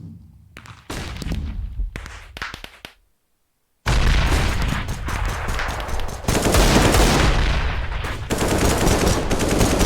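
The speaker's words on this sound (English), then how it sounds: "Here comes some gunfire toward the A side" Bursts of automatic gunfire and rapid shots from a 2v2 tournament match in a shooter video game, loud and dense, with a short silent gap before sustained firing resumes and continues to the end.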